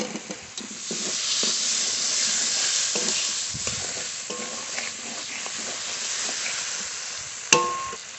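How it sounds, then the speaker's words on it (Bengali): Chopped tomatoes go into sizzling fried masala for masala paneer, producing a loud continuous sizzle and hiss with stirring scrapes and a sharp utensil clack near the end. "মশলা একটু কষিয়ে নিয়েছি এবার টমেটো কুচি দিয়ে দেবো"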